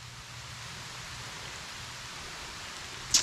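Steady rain falls outdoors near a beaver dam, a soft, even wash of hiss with no break, plus a brief brighter patter at the very end.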